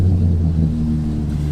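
A turbocharged 1.6-litre four-cylinder Ford Fiesta ST with a Stage 2 tune pulls away hard, its deep engine rumble loud and steady, heard close with no talking.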